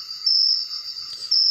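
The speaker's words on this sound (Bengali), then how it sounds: "শুধু জঙ্গলের ঝিঝি পোকার ডাক।" Crickets chirping in a jungle at night, a loud, close, continuous high trill that swells and dips slightly in steady pulses, with nothing else heard.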